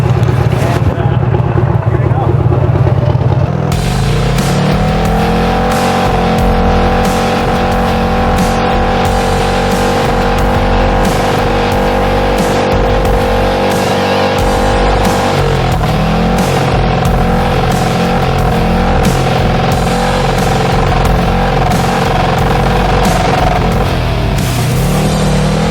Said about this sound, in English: First burnout on the bike,